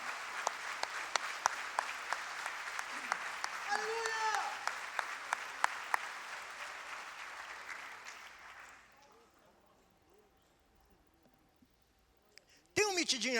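A church congregation claps loudly in a sustained round of applause, with a voice calling out over it, before fading to near quiet; talk resumes at the end.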